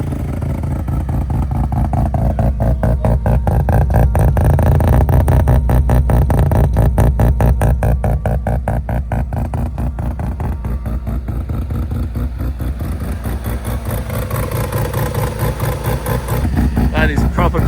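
An RX2 Series 4 car's rotary engine runs at a rotary car show, with a loud, steady, pulsing exhaust that rises and falls slightly in revs over the whole stretch.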